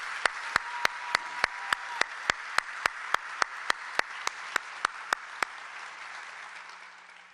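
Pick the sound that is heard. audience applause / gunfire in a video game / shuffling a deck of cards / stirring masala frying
audience applause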